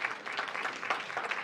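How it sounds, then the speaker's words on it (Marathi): Brief burst of audience applause for the cast and crew of a new Marathi TV serial at a live stage event, a dense patter of many hands heard at moderate distance. "एकदा या सगळ्या टीमसाठी जोरदार टाळ्या झाल्या पाहिजेत"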